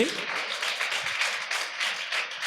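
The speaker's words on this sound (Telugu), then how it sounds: "గట్టిగా చప్పట్లు కొట్టాలి." A church congregation claps loudly together, a dense steady patter of many hands lasting throughout, with some voices mixed in beneath.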